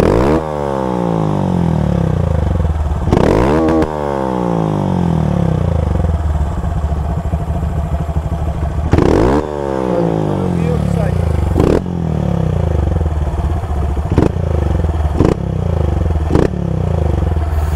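A Honda Start 160 motorcycle fitted with a GRS exhaust idles loudly up close, then rises in two strong revs before settling into quick, sharp throttle blips over a rattly, throbbing idle.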